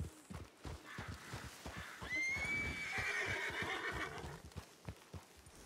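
Video game horses at a ranch near Blackwater: a loud, drawn-out whinny rises over a steady clip-clop of hooves, with no voices over it.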